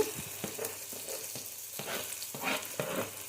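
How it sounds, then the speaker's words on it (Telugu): Chopped onion and a chilli frying in a pan, a close steady sizzle with rhythmic stirring scrapes every half second or so, no speech. "ఆనియన్స్ వేసుకున్న తర్వాత మనం బాగా ఫ్రై చేసుకుందాం."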